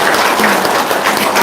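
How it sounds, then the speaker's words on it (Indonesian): A crowd at a religious talk claps and applauds steadily, a dense, even wash of clapping filling the short moment. "Boleh, tepuk tangan dong."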